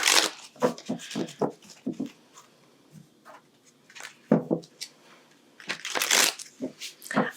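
Tarot cards are shuffled in several quick riffling bursts with pauses between, close and crisp, with light papery rustling.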